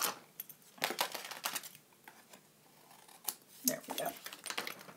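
Metal snips trimming the bottom edge of a paper card, a close run of sharp, irregular clicks and crisp cuts spread over a few seconds.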